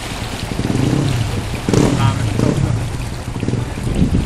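A canal boat engine revs hard in bursts as it enters a culvert, a loud rumbling roar mixed with wind buffeting and rushing water, on a Ramkhamhaeng Road canal.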